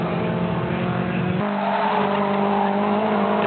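Toyota MR2 race cars lapping a circuit at a night race, engines droning loudly and continuously, with an abrupt shift in engine note partway through as the cars pass.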